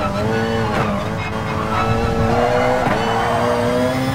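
An LMP-class prototype race car in Gran Turismo Sport racing hard, with a loud, high-revving engine drone that rises and shifts through gears, plus brief tire squeal, close and continuous, with a voice faintly underneath.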